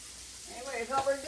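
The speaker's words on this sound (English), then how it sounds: "We're just putting it in the skillet here to let it fry in that bacon grease" Chicken pieces sizzle in bacon grease in a skillet, a steady close hiss that swells and crackles as the meat goes in.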